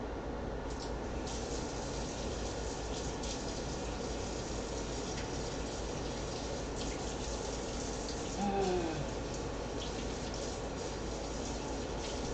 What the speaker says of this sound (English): let me wash off this knife